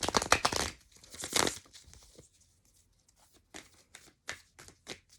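Tarot cards handled and shuffled by hand, a burst of crisp riffling and flapping at first, then scattered short card snaps and taps in otherwise quiet surroundings.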